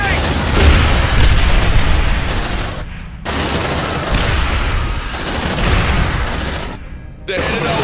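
Grenade blasts and rapid gunfire erupt in a sci-fi combat scene from the Aliens: Dark Descent video game, loud booms and bursts filling the scene with brief near-silent gaps between volleys.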